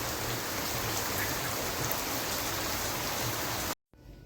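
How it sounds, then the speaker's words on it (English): Steady rain pours down in a village, a dense continuous patter on surfaces, close and loud, before cutting off abruptly near the end. "finally the rain has arrived"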